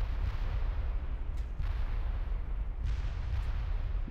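Artillery fires in a Total War strategy game, with deep rumbling booms and dull thuds overlapping in a continuous low barrage, with several sharper reports standing out.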